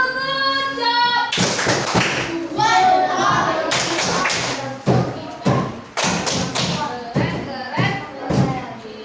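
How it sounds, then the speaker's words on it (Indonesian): A group of children in a classroom claps hands in quick bursts of thuds and slaps, mixed with children's voices and a teacher talking, the clapping loud and close in uneven clusters. "Tepuk tangan."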